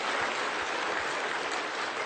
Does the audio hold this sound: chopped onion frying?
no